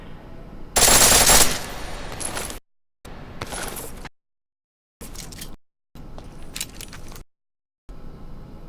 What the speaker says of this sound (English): The pistol in full auto will take ammo.